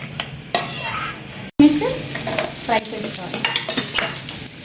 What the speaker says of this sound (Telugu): నెక్స్ట్ కిస్మిస్ ఫ్రై చేసుకోవాలి